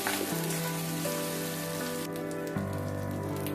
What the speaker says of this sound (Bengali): আদাটাকেও আমি 1 মিনিটের মতো ভেজে নিব।